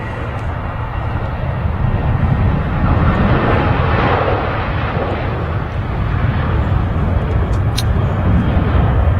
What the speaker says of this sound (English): 737-800 departing to Nice.